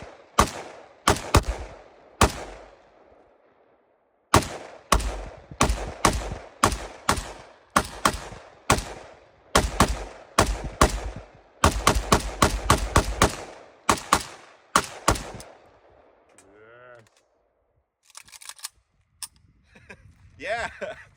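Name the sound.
AK rifle firing 7.62x39 rounds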